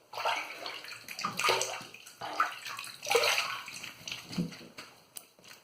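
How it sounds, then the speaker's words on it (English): Water running and splashing as a face and razor are rinsed after a wet shave with a boar brush, close and uneven gushes with gurgling swells and brief pauses, no talk. "Let's rinse up."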